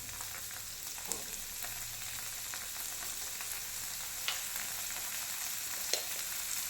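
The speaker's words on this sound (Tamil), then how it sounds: "இதை அப்படியே லைட்டாக வதக்கி கொடுங்க." Green peas sautéing lightly in butter in a pan, an even close sizzle throughout with a few soft stirring clicks and scrapes.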